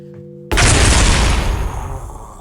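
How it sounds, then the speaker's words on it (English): A huge explosion rocks a ship, a sudden loud boom that erupts after a quiet, hum-filled moment and then rumbles on as a long, slowly fading roar of debris and noise. "a huge explosion rocks the ship, sending all of you to the ground"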